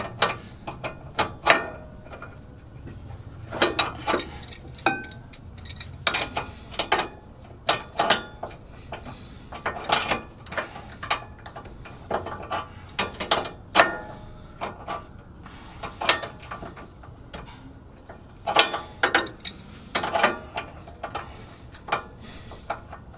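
Ratchet tightening a ball joint on a Honda S2000, heard as repeated bursts of rapid clicking with short pauses between strokes, fairly close and alone with no talking.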